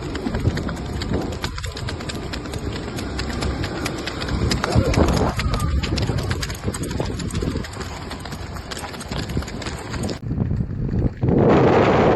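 A mare's hooves clip-clop in a steady, close rhythm, loud and continuous, with voices talking over parts of it.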